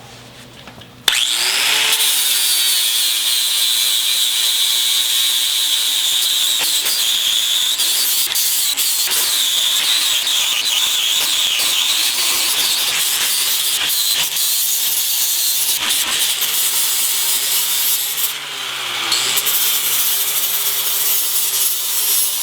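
Coarse 40-grit abrasive grinding down steel to fill a gap, a loud, steady power-tool roar with a constant high whine that runs almost unbroken for the whole stretch, dipping briefly once near the end.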